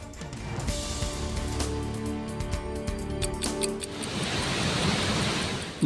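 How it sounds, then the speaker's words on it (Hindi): A rain-swollen waterfall at the Kedareshwar temple in Ratlam roars in a steady, dense rush of water. The sound is loud, continuous and close, swelling slightly toward the end. "लगातार बारिश से बरसाती झरना उफान पर है।"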